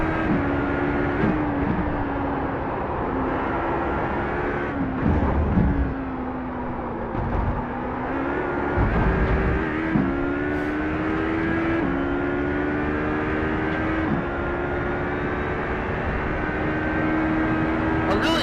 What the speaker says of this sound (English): The engine turned up too much.